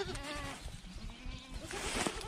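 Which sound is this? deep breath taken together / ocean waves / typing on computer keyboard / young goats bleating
young goats bleating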